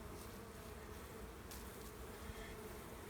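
Honeybees buzzing around an open hive during a spring inspection, a dense steady hum with no break throughout.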